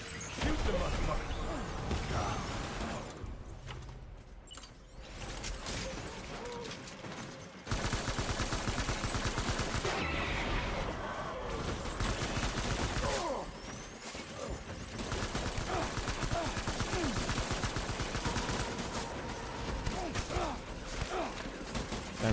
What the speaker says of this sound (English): Shoot the motherfucker!